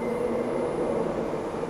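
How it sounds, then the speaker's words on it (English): A Transperth A-series electric train rolls into a station platform on the Midland line, a steady, loud rumble of wheels and traction noise with a faint squeal, heard alone with no voices. "And here's the train."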